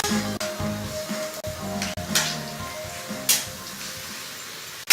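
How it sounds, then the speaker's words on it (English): Chicken sizzles and fries in a pan over a live cooking demonstration, a steady hiss broken by a few clanks and stirring scrapes, close and fairly quiet, with faint music or voices underneath. "Got my chicken sizzling over here"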